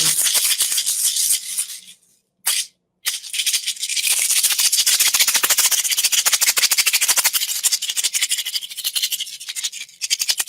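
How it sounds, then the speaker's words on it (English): A handheld rattle shaken steadily and close up during a New Year ceremony, giving a dense, continuous swishing rattle of small beads that stops briefly twice near the start and then carries on without talk. "I broke out with a rattle"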